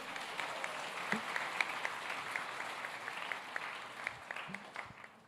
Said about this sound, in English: Can we get another round of applause for Dr. Michael Drew?